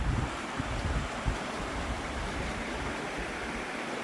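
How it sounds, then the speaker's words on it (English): A river on New Zealand's Te Araroa Trail rushes steadily in a broad, continuous wash of water noise, near and fairly loud, with low rumbles and no voices. "And the river."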